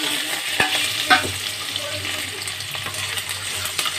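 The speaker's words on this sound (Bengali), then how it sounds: "কালো জিরে দিয়ে দিলাম এবার যে পেঁয়াজটা কেটে রেখেছিলাম সেটা" Chopped onion going into hot oil tempered with nigella seeds, giving a strong, close sizzle with several distinct spatula taps and stirring scrapes over a continuous frying hiss.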